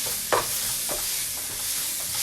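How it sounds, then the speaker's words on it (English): A pan of tomatoes and chilies sizzles steadily with a broad, constant frying hiss, punctuated by a few soft stirring scrapes. "That nice sizzle there we've got."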